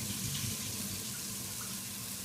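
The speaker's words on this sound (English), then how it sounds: "I'm going to get a colander to get the water out." Soaking water from rice pours through a colander into a sink, a steady, close rushing stream that holds even for its short length with no voices.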